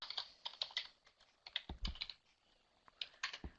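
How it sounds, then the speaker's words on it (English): Quick, uneven bursts of typing on a computer keyboard, close and clear, with clustered key clicks and a few heavier thumps from the space or enter key, no voices over it. "then just keep typing"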